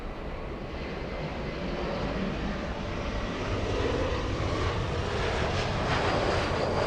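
United airliner landing on runway 24 right at LAX, a continuous heavy jet rumble and rushing roar that grows gradually louder over several seconds, close and steady, with no talk.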